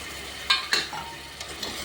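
Ginger garlic paste going into a hot pan, giving a short sizzle with two sharp spoon or pan clinks near the start, then quieter stirring, close up and alone.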